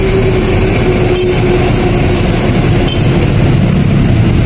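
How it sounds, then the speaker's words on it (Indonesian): An Indonesian commuter train bound for Manggarai rumbles past close by, a loud continuous roar of wheels on rails with faint metallic squeals and clatter, and no talking. "Wow, ini kereta ya ke arah Manggarai, ke arah Cikarang atau Bekasi via Manggarai ya."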